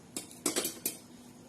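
A utensil scrapes and knocks against a cooking pan while masala is stirred for a greens dish, four short clattering strokes over near silence.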